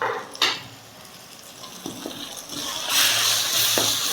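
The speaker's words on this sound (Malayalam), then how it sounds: "ഇനി ഇതെല്ലാം കൂടി നന്നായിട്ടൊന്ന് മിക്സ് ചെയ്തെടുക്കാം." A spoon stirs spice powders and garam masala into a potato and brinjal masala in a hot pan, giving soft scraping and sizzling under a steady frying hiss that swells toward the end, with no talk.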